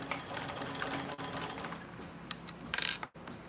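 A sewing machine hums steadily through a 1/8-inch basting stitch, its motor running continuously up close with light mechanical ticking and a brief clatter near the end.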